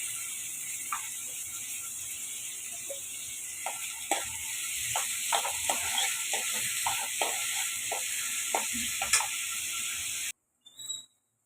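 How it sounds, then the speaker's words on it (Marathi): Onion stir-frying in a pan gives a steady sizzle with scattered clicks and scraping stirs, continuous and fairly close, ending abruptly near the close. "हा कांदा पण मी परतून घेते."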